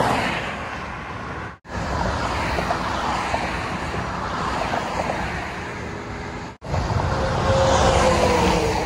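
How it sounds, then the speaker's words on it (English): Big trucks rumble past loudly near a roadside in New Jersey, a continuous heavy roar of traffic and wind with two brief drops where one vehicle gives way to the next. "Big old trucks going by."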